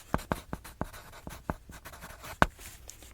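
A pen writes on an inspection checklist in a clothing store, giving quick, crisp scratches and taps in an irregular rhythm, close and clear, with no voice over them.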